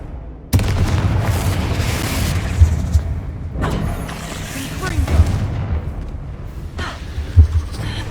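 Confringo fire spell from the video game Hogwarts Legacy, a booming blast that bursts out sharply and then rumbles on over a dense, loud game soundscape, with further heavy thuds following.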